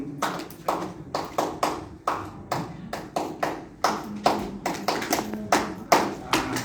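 An audience at a legal outreach seminar claps in unison in a quick 2-3 rhythmic pattern, about seventeen sharp, close claps grouped in short bursts with brief pauses between groups.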